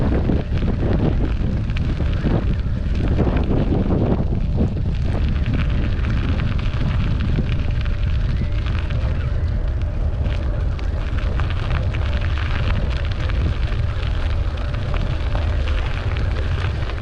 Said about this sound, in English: it's pretty windy here today